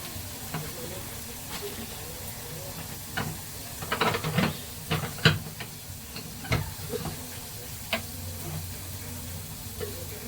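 Ingredients crackling and spitting in hot oil in a home kitchen while pulao is prepared, with a steady frying hiss and bursts of sharper pops near the middle, and a faint voice now and then.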